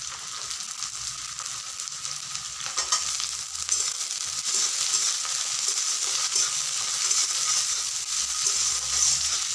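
Dried fish (shutki) fries with onions in a pan, giving a steady hiss and crackle that grows louder partway through as stirring continues, with no one speaking.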